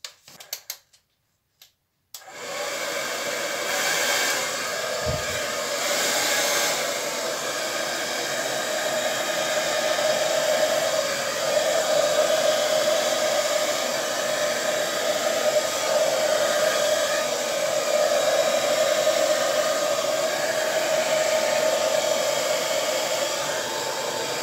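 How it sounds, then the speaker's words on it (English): Hair dryer blowing across acrylic paint on canvas for a sky blue Dutch pour, starting after a brief click and then a loud, steady, close airflow roar that runs unbroken for about twenty seconds, no voices. "I'm just going to blow with my hairdryer now from here."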